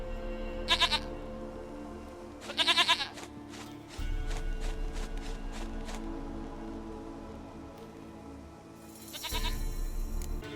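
A goat in The Witcher 3 bleats three times in loud, wavering cries, the first two close together and the third near the end. Quiet ambient outdoor game sound fills the gaps between them.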